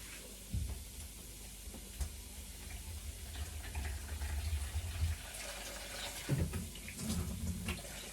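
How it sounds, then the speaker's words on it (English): Water runs and splashes into a cooking pot for ayamase stew, a soft steady pour with a few clinks and knocks, fairly quiet and close. "And then you can put a bit of water just for it to boil."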